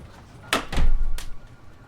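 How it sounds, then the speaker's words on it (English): A door closes in a courtroom chambers, a loud near sequence of sliding, a heavy thunk and a final knock, with no voices. "Close the door, counselors,"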